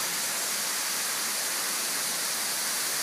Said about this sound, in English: Just come up to the base of this waterfall,